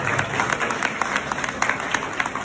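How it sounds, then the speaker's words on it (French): Audience applause at a conference in Thiès, a sustained mid-level clapping texture with individual claps poking through, no speech over it. "je vous demande d'applaudir très fort s'il vous plaît"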